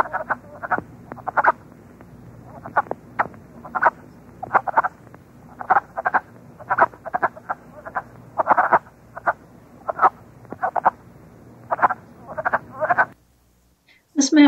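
Wood frogs give repeated clucking, duck-like croaks in bursts, several voices overlapping fairly close, then a sudden pause near the end.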